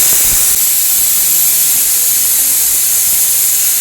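Loud, steady hiss of escaping steam from a pressure cooker cooking biryani runs through the whole stretch without pause; no voices.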